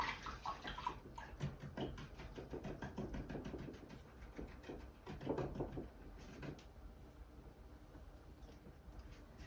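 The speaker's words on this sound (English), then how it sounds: "I'm going to rinse my brush out" A paintbrush rinsed in a water jar during a painting session, with steady sloshing and swishing splashes that surge in bursts and fade toward the end, fairly quiet and with no talking.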